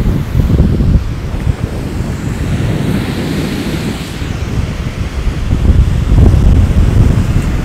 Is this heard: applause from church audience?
no